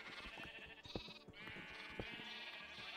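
Sheep bleating in the video game Minecraft, several wavering bleats over a soft looping background, fairly quiet with no speech.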